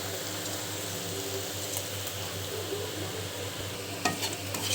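Ground spice paste frying in a pan while being stirred, a continuous soft sizzle with a low steady hum beneath and a few light scrapes near the end.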